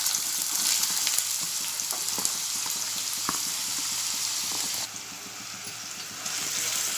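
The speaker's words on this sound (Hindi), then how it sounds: "अब मैं इसमें प्याज डालूँगी, बारीक कटी हुई प्याज डालूँगी।" Finely chopped onions hit hot oil in a frying pan, giving a dense, steady sizzle with crackling pops that continue for several seconds, close and alone.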